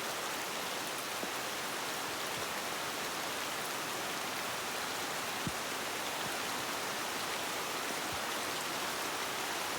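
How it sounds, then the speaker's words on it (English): Pouring rain falls as a dense, steady hiss with no breaks, loud and close, with occasional heavier drops or drips standing out against the constant wash. "So it starts pouring rain."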